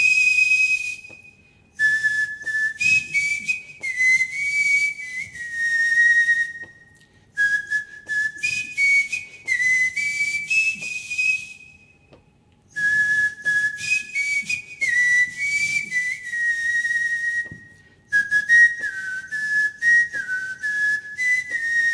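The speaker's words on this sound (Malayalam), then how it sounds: "ഒരു ഹിന്ദി പാട്ടും കൂടി നമുക്ക് വേണ്ടി ഒന്ന് വിസിൽ ചെയ്യോ?" A person whistles a Hindi song, a clear, loud, close melody in sustained phrases broken by short pauses for breath, with no talking.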